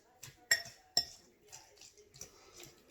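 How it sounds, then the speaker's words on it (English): A utensil mashes a green paste in a bowl, giving soft squelches punctuated by a few sharp metallic clinks against the dish, close up and irregular, with quiet speech in the background. "I like to mash mine relatively finely so we can get everything"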